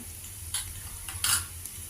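Soft sizzle of a tempering of urad dal, cumin, mustard seeds, chilli and asafoetida frying in oil, with a couple of short scraping stirs against the pan over a low hum.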